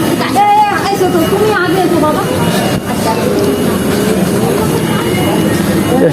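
A metro train pulls into an underground station on India's line beneath the Ganges. The deep rumble and roar stay loud and steady throughout, with voices talking over it.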